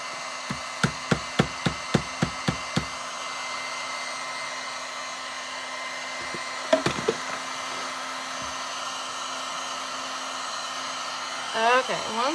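A hair dryer drying glue on a craft sign made with transfers runs as a steady, close whir, with sharp taps at the start and near the middle. The blower stays on throughout, and some brief talk comes near the end.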